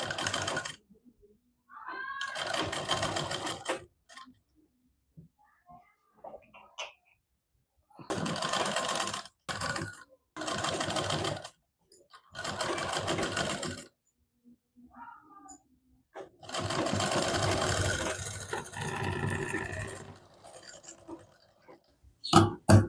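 A sewing machine stitches a size 32 double katori blouse at half-inch seams, running in several close bursts of rapid whirring separated by quiet pauses for handling.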